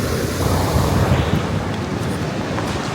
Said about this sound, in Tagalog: We're gonna go so we can see the falls there.